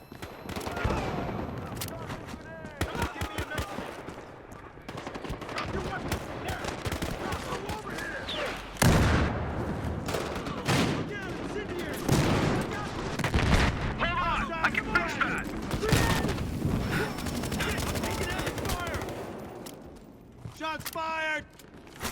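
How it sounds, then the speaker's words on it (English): Gunfire in Battlefield Hardline fills the scene: bursts of automatic fire and single loud shots crack repeatedly at close range, mixed with game voices shouting. "Shots fired!"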